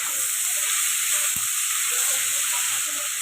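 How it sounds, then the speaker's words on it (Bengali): Potatoes frying with salt in a pan give off a steady, loud, broad sizzle that runs unbroken throughout, with one brief low knock near the middle. "নুনটা দিয়ে আলুটাকে ভাজবো"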